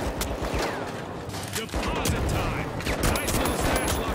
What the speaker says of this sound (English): There's two of them shooting at me at the same goddamn time.